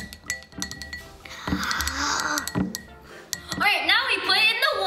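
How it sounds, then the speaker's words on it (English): Food coloring being stirred into oil in a glass container, with repeated light clinks and scraping against the glass, while excited voices chatter over it. "Now we stir it."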